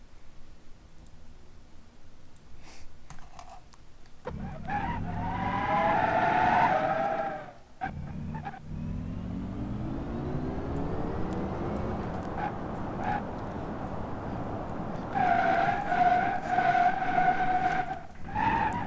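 A car crashes at 60 mph in a video game: long engine and skidding tire-squeal tones rise and fall across the clip, with a harsh impact break midway and a loud screeching stretch toward the end, without speech.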